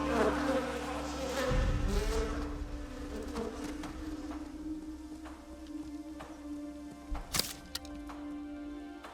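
Wasps buzz in the video game Ghost of Tsushima, a thin insect drone that hangs over the game's ambience, cut by a few sharp whooshes and a swipe near the end.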